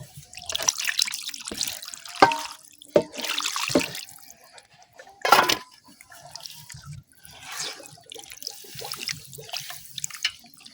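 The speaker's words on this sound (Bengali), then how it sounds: "আমার কিন্তু মাখানি হয়ে গেছে, এখন আমি পানি দিয়ে দেম।" Water poured into a mashed spice mix for a village-style fish curry, splashing and trickling in several short bursts with quiet gaps between them, close by.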